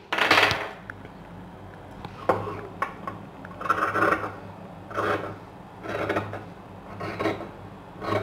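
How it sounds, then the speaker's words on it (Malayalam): Scissors cut through saree blouse fabric on a work surface, a series of close rasping snips and rubbing scrapes in uneven bursts with short pauses between them. "കട്ട് ചെയ്തെടുക്കാം നമുക്ക്"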